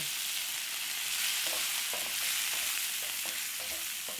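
Green peas with green chilies, salt, red chili powder and mango powder stirred in a hot pan for samosa filling, a loud dense sizzle with rhythmic spatula scrapes, no voices.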